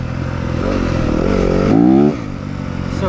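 A 2023 Yamaha 250FX dirt bike engine drones steadily while being ridden on a dirt track, then revs up sharply for a moment before dropping back. The engine is close and loud throughout, with no talking.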